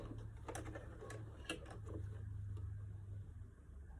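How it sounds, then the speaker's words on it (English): A sewing machine stitching a fabric mask, a steady low motor hum with rapid mechanical needle clatter running throughout, close and fairly quiet, with a few faint clicks from the machine. "so you're gonna sew on the top, along the top, about a 1/4 of an inch seam allowance"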